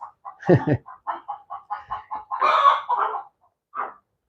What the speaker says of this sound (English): Chicken's going crazy. Chicken's laying an egg.